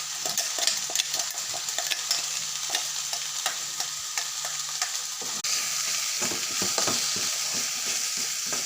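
Drumstick leaves frying and being stirred in a pan for thoran, a steady sizzle with repeated scraping strokes of a spoon throughout, close and moderately loud, no voices.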